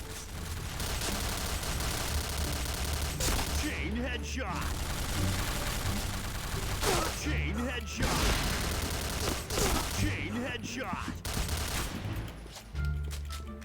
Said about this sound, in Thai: ก็คือผมชอบมันลั่นกระสุนนั่นเพื่อนนะ ลั่นไวมากเพื่อน